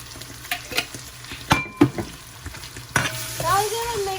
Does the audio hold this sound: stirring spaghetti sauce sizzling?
yes